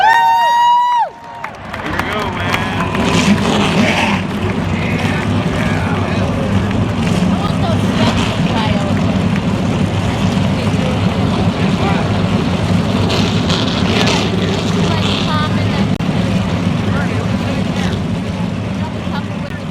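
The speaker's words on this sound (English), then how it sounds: "Drivers, start your engines!" Stock-car engines roar together at the start of a stop-motion NASCAR race at Phoenix Raceway, a loud sustained engine drone with crowd-like noise throughout, after a brief announcer voice at the opening.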